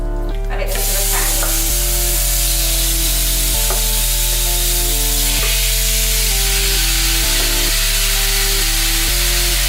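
Plain chicken pieces without paprika fry in a pan, giving a steady, close sizzle that lasts throughout while music plays underneath.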